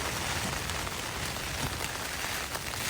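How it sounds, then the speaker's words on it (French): Rain falls steadily on a tent during a mountain trek, a dense, even patter with close drumming drops and no other sounds. "Il commence déjà à pleuvoir. Il pleut bien."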